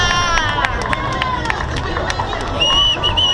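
Crowd at a road race finish line in Montevideo greeting an arriving runner, scattered claps and cheers mixed with loud excited chatter and shouting voices close by.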